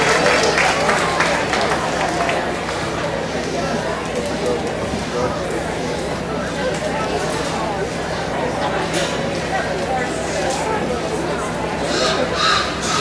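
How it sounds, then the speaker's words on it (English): Applause from the audience at a junior fair market hog show at the Coshocton County Fair, steady and dense across the whole stretch, with crowd chatter and a voice over a PA mixed in beneath it. "Let's get those young people around for applause."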